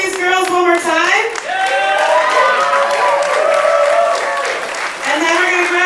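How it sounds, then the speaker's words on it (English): Crowd applause at a rockabilly pin-up pageant, a dense steady patter of clapping carrying through the whole stretch, with voices and cheers layered over it. "give me a huge round of applause for all of these girls one more time"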